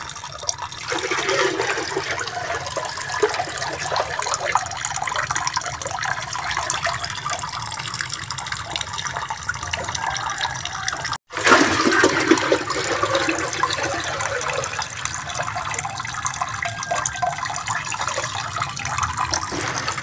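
Water pours steadily into a small fish pond holding young gourami fry, making a loud, continuous close splashing rush that drops out for an instant in the middle and then carries on.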